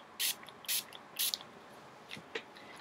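Alcohol ink is sprayed from a spray bottle in three quick, close hissing bursts, followed by a few softer, fainter spritzes and drips, with no talking.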